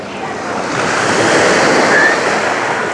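Sea surf rolling onto a crowded beach at Anapa, a steady broadband wash of breaking waves that swells slightly louder midway, with some wind rush over the microphone and no talking.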